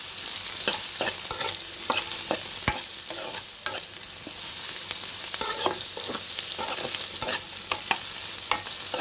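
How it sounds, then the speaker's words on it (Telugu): A pan of food frying until golden brown, a dense continuous sizzle broken by frequent sharp stirring clicks and scrapes, close up and with no voices. "మరొక 2 నిమిషాలు వేయించుకోవాలి. ఇంకొంచెం గోల్డెన్ బ్రౌన్ కలర్ వచ్చేయాలి."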